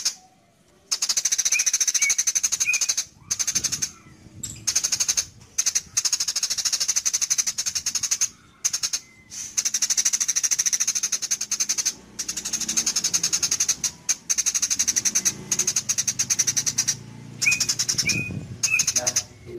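Songbird recordings meant for training a murai batu fill the air with dense, continuous high chirping and trilling calls, loud and close, broken by a few brief pauses.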